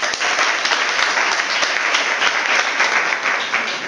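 Dense, steady applause from a large crowd at a launch event in Ziguinchor, Senegal, fills the space, continuous hand clapping at even loudness throughout with no voices standing out.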